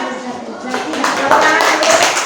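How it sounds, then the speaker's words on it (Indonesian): Classroom applause from pupils after answering a teacher's questions, short clapping rising under overlapping voices and chatter. "Tepuk tangan."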